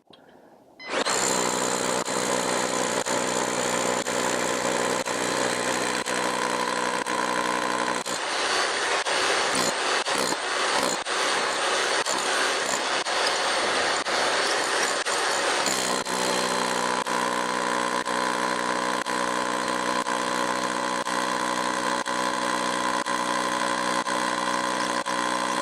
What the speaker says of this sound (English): we need to adjust to hammer drill.